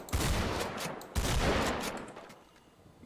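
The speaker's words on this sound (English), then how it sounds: "pump shotgun for the police" Police pump shotgun blasts in GTA V on a FiveM server with a modded sound pack, two loud booming shots a second apart, each trailing off into a long decaying echo.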